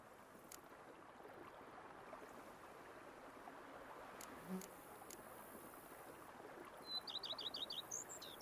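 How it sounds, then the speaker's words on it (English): Birds chirp in a quiet outdoor scene in The Witcher 3, with a quick run of high, distant tweets near the end over a faint, steady ambient background. "peace and quiet, bees buzzing, birds chirping"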